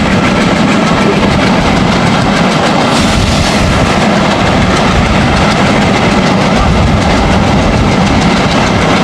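A commuter train passes through Nimtala railway station, heard from on board as a loud, steady roar of wheels and rattling carriages with rhythmic clatter throughout.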